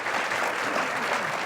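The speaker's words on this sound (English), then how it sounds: "let's applause for our speakers here" Steady audience applause for speakers at a panel event, dense even clapping throughout at moderate loudness.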